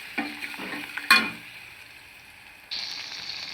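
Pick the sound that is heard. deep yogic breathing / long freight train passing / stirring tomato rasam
stirring tomato rasam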